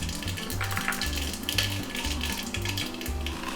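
Fenugreek seeds sizzle in hot sesame oil for a tempering, a bright crackling fry with repeated low clunks of a utensil stirring against the pan, close and steady, no voices.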